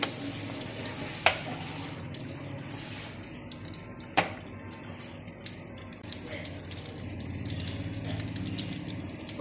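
About 200 ml of sesame oil is poured into a pan for fish curry, giving a steady, close liquid pour with a couple of sharp clinks and a faint sizzle, with no talking.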